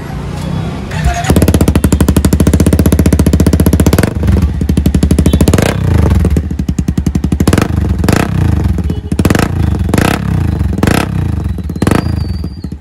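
Honda CBR 250R running with a Bullet exhaust fitted, its engine revved in loud, rapid, throbbing bursts close by, with a rattling idle between pulls and people talking over it.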